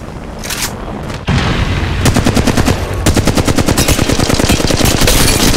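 Rapid automatic gunfire from Apex Legends Mobile, loud and close, opening with a few scattered shots before settling into a steady, fast burst of shots that runs to the end.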